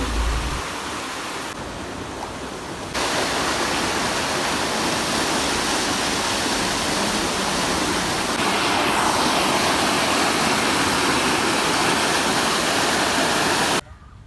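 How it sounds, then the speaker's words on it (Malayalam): Water gushes out into a paddy field in a loud, steady rushing flow that holds unbroken for several seconds before stopping suddenly at the end. "അപ്പോൾ ഇത് മൊത്തം ഊരിയാൽ നല്ല വെള്ളം വരുന്നുണ്ട്"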